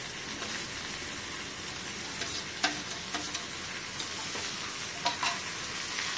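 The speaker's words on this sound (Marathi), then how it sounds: "आता हे वांगे आणि कांदे टोमॅटो हे छान मिक्स करत फ्राय करायचं 1 मिनिटापर्यंत" Smashed eggplant with onion and tomato frying together in a pan for bharit: a soft, even sizzle with scattered light spatula taps while stirring, fairly quiet and without talk.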